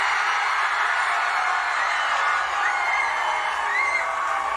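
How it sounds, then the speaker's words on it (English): A large crowd of thousands of students at a Turning Point USA event cheers and roars steadily, a dense sustained wash of voices with scattered whoops, loud and continuous throughout. "That sounds like a big crowd of beautiful people."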